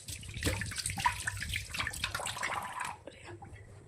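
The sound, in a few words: washing a new ladle under running water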